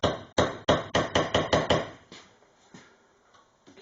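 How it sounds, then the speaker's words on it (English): A hammer strikes the end of a rivet on a Cadillac rear side window channel, a quick run of about nine sharp metallic knocks in a fast, even rhythm, then a few fainter, spaced taps, close up with no talk. "then I can start hammering the end of the rivet over."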